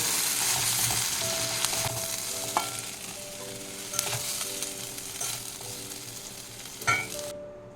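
Nigella seeds and two dry red chillies crackling in mustard oil for a potato and saag poppy-seed dish, a soft continuous sizzle broken by occasional sharp pops and spoon scrapes.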